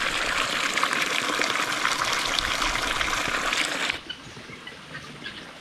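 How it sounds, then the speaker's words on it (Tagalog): Water gushes strongly into a farm pond through a repaired inflow, a steady loud rushing that cuts off abruptly near the end and leaves quieter background noise. "makikita natin na malakas yung flowing sa ating tubig dito sa ating pan"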